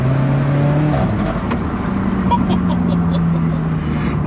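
An Alfa Romeo 4C sports car engine revving loudly and close, its tone rising and falling across changing pitches, with road and wind noise beneath it.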